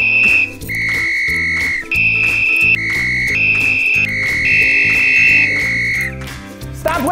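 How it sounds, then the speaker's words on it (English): A shrill whistle blown in a series of sustained, shifting pitched tones, loud and close, over a rhythmic backing beat with no talking. "Stop whistling at me!"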